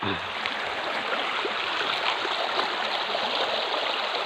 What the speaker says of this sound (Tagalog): Tatawir na naman itong maliit na sapa.